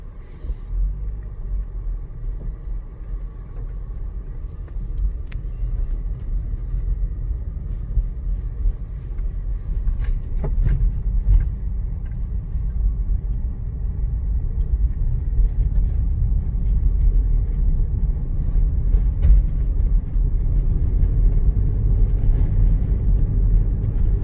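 A 2005 Toyota Highlander Limited with a 3.3 V6 and automatic transmission drives along, heard from the cabin as a steady low engine and road rumble that builds slightly over time.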